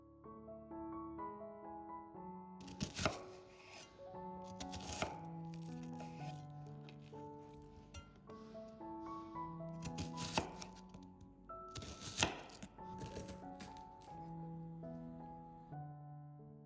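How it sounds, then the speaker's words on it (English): An onion chopped with a knife on a board in a home kitchen, a few sharp, clear chops standing out over background music that plays throughout. "Next, I chop the onion."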